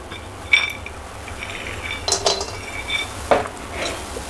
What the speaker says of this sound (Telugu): ఇవన్నీ వేయించుకోవాలండి బాణలు పెట్టినానండి వేడయింది ఇప్పుడు పల్లీలు